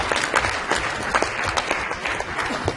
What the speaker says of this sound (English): Let's applaud leadership.